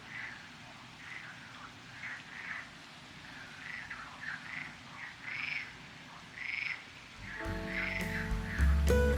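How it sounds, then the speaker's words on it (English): Frogs croak repeatedly at night in a park on São Miguel, Azores, an irregular chorus over a soft hum, with a brief clattering, tonal noise joining near the end. "have the frogs sing you to sleep"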